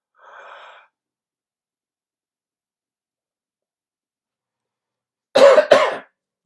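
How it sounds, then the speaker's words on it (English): A soft breathy exhale, then after a pause a single loud, close cough in two quick bursts. "See, I coughed into my elbow there."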